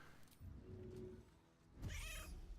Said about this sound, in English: Cat goes meow